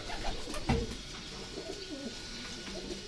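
Soft, low racing pigeon coos repeat over a quiet ambient background, with a brief flutter-like burst early on.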